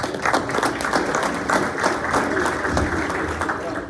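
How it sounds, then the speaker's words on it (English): Audience applause at a Corona business gathering, greeting the Altman's Construction team, a lively, steady patter of many hands with sharp individual claps standing out, moderately close and continuous throughout. "And now we have Altman's Construction. Let's give them a round of applause."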